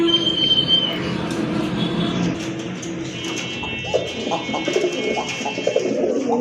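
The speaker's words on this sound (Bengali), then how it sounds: "আরেক জোড়া কবুতর, চিলা কবুতর, অরেঞ্জ চিলা কবুতর, অনেক বড় সাইজের কবুতর।" Large orange chila pigeons cooing nearby in soft, repeated rolling coos over a steady background hum, with faint voices in the distance.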